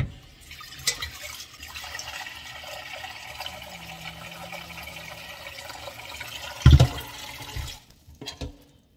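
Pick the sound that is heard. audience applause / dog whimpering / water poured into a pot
water poured into a pot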